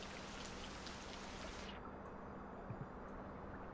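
Steady rain hiss in the video game Rain World, a dense wash of falling water that thins partway through, with a few soft low thumps later, heard alone.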